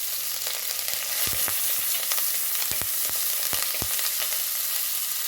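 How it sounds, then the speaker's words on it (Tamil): Garlic cloves and curry leaves fry in a pan for bitter gourd curry, giving a steady close sizzle with occasional scraping stir strokes and no talking. "கூடவே ஒரு ஆறு பல் பூண்டு இருக்குது போட்டுக்கலாம் நல்லா வதங்கட்டும் கருவேப்பிலை போட்டுக்கலாம்"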